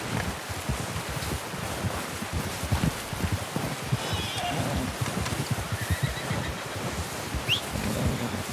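Horse in the Red Dead Redemption 2 video game neighing amid rustling outdoor ambience, a whinny standing out over steady movement and hoof-like clatter.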